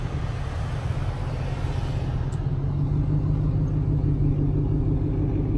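Black Ford Explorer rolling past with a steady low engine rumble and tire noise, continuous and fairly close throughout, no voices.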